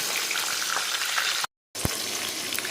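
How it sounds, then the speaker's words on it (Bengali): Katla fish head pieces, coated in salt and turmeric, frying in hot oil with a steady crackling sizzle that cuts out briefly, then resumes with a sharp pop. "এটাকে ভালো করে লাল লাল করে ভেজে নেব"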